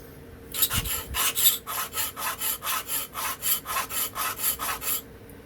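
A Remington Barlow knife blade is drawn across an abrasive in about fourteen even, rhythmic rasping strokes, close and fairly quiet, with no talking.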